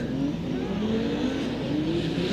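Toyota drift race cars revving hard during a Top 16 competition battle in Texas, a loud continuous engine roar with rising pitch, heard from a moderate distance.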